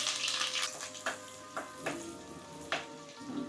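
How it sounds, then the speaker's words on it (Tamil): Chopped green chillies and onions sizzle and crackle in hot oil, with a few soft clinks of a spoon stirring the pan. "நறுக்கி வச்சிருக்க பச்சை மிளகாயும் வெங்காயமும் நான் சேர்த்துக்கிறேன்"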